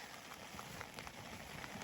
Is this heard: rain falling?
yes